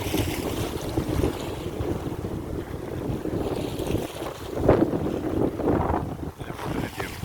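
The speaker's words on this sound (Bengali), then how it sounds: "বোট যে আসলো, এখন সে তার নিয়ম" Boat wake waves washing ashore in strong wind, an irregular churning wash that swells in several bursts over buffeting wind noise on the microphone, close by.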